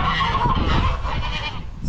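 Goats bleating nearby, a couple of wavering calls over farmyard background noise.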